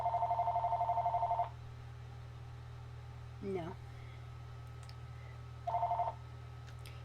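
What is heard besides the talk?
telephone ringing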